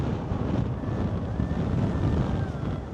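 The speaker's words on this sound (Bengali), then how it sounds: "প্রচুর বাতাস, প্রচুর বাতাস।" Strong wind roars across a roadside stop between open haor wetlands near Kalmakanda, Netrokona, as a steady, loud, low buffeting rumble that never lets up.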